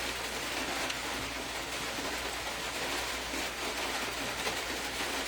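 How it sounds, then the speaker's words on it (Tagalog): Heavy rain falling steadily outdoors under a very dark sky, a constant dense hiss of drops without breaks, even and moderately loud, with no talking. "malakas ang ulan ngayon"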